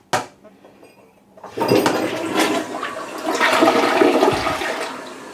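A Costco Water Ridge toilet flushes loudly and close by, a sharp click first, then a steady rushing swirl of water lasting several seconds.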